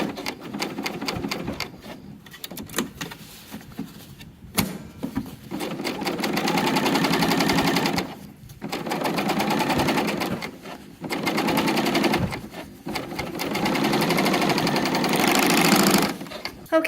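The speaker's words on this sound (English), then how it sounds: "we're just going to serge around this outer edge of the pocket" An overlock serger runs around the outer edge of a dress pocket. It sounds loud and close in several fast, buzzing bursts with short pauses and stop-start clicks between them.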